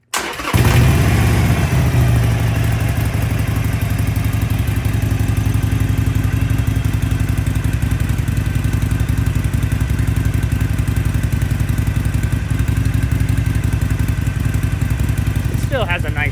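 A 2019 Harley-Davidson Iron 883 motorcycle sitting in neutral cranks and fires up, then settles into a loud, steady, close-up idle that rumbles on unbroken.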